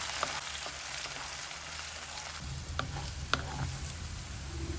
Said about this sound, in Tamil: பூண்டு நல்லா வதங்கணும், வதங்கி பொன்னிறமாகணும்